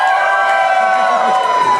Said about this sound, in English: You cheer if he lost.